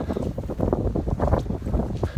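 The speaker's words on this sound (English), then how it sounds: "It's a bit chilly today and it's a bit windy." Steady wind rushing and buffeting against a microphone outdoors on a chilly morning on Snowdon, a continuous low roar with gusts rising and falling.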